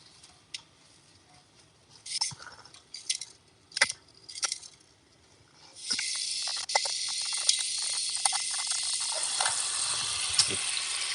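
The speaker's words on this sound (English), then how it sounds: "Or just let it flush forever." A toilet flushing and then running continuously, a few scattered clicks and rattles first, then a sudden loud steady rush of water that keeps going without stopping.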